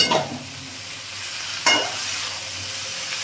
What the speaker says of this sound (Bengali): এবার আমি ভালো করে মোচাটা দিয়ে কষাবো।